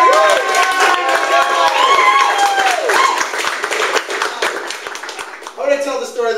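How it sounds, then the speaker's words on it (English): A live comedy show audience bursts into loud applause with cheers and whoops, the clapping dense and sustained before thinning slightly toward the end, where a voice begins speaking. "please give the most amazing round of applause"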